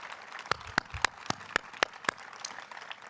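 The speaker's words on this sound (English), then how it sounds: "why don't we give her a round of applause today?" A handful of sharp, isolated handclaps at a steady pace ring out in a quiet hall at a celebration-of-life memorial gathering for Josie Harper, too sparse to swell into full applause.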